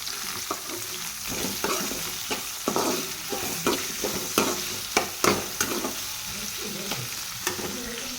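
A tempering of mustard seeds, cumin, ginger, green and dried chilies, and curry leaves fries in hot oil with a loud, continuous crackling sizzle, punctuated by frequent close stirring scrapes and pops, with no speech.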